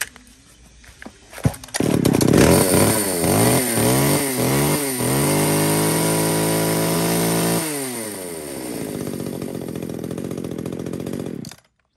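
A one-handed top-handle chainsaw starts with a few sputtering pulls, then revs hard several times in quick bursts before settling into a loud, steady high idle and cutting off.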